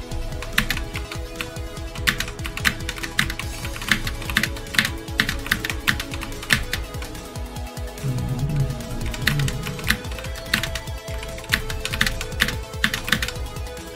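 Steady typing on a computer keyboard, quick irregular key clicks running throughout at close range, with a faint low hum in the background.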